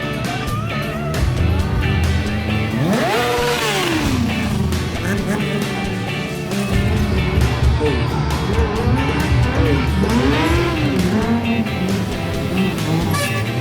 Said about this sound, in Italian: è il Mike, moto da strada, ma evoluzioni che di solito non si vedono con una moto da strada.